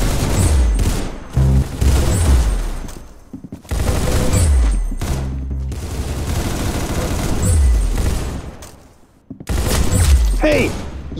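Rapid gunfire bursts and booming shots from the online shooter game Arsenal, loud and close, repeating in several volleys with brief gaps, with excited talk from players over the action.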